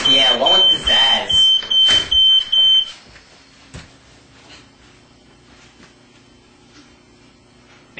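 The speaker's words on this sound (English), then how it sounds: "Hate listening to that old monotone fire alarm beep." A monotone fire alarm beeps loudly in a steady rhythm, about six evenly spaced tones, then stops and leaves a quiet room with faint knocks and background sounds.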